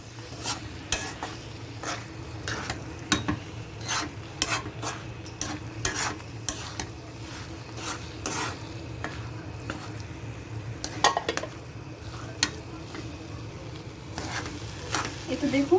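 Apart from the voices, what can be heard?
stirring boiled chana dal with spices in a pan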